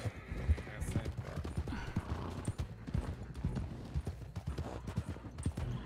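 Horse hooves clip-clop steadily in the RedM roleplay game as the rider travels, with rapid rhythmic thuds and an occasional whinny, and a voice speaks over them at times.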